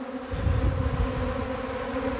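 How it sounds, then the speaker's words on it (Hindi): A swarm of Himalayan honey bees fills the air with a steady, dense buzzing hum, loud and continuous throughout with no voices. "आप इंजॉय कीजिए मधुमक्खियों की स्वार्मिंग, देखिए कितनी ज़बरदस्त हो रही है।"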